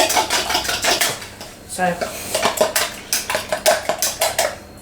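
Eggs lightly beaten in a bowl for baking, rapid rhythmic clinks of a utensil against the bowl in quick bursts with short pauses, close and clear, with a brief spoken word.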